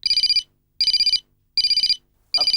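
A mobile phone ringtone repeats in four loud, clear bursts of bright electronic tones, each lasting under half a second with short silences between.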